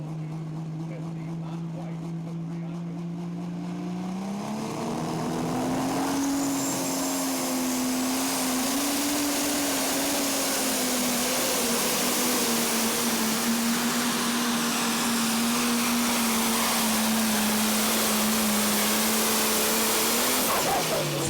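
A pro stock pulling tractor roars through a pull at Tomah, Wisconsin, its engine note climbing as it launches and then holding a loud, steady drone down the track for some twenty seconds, with no voices over it.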